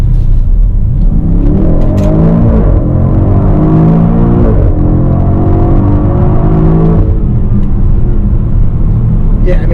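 A 2020 BMW X5 M Competition with 617 horsepower and 553 pound-feet of torque accelerates hard, its engine note climbing in loud, rising sweeps with a steady rumble and the drone of the road throughout.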